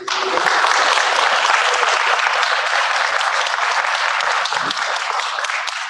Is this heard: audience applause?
yes